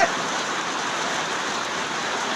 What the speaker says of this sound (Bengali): অনেক দিন পর মিরপুর বাস স্ট্যান্ডে বৃষ্টি হচ্ছে